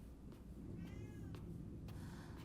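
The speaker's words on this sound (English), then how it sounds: "My cat's meowing outside." A real cat meows outdoors, one drawn-out call faint and distant beneath a constant low rumble of game ambience, with no speech.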